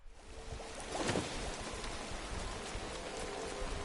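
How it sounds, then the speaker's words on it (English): Rain falling in a video game, a steady broadband hiss of downpour that swells after the first second and continues evenly, with no talking. "rain"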